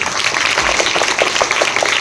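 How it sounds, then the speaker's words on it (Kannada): Loud, dense applause from an audience at a Kannada Rajyotsava celebration, steady crowd clapping filling the whole stretch without a break. "ಒಂದು ಜೋರಾದ ಚಪ್ಪಾಳೆ"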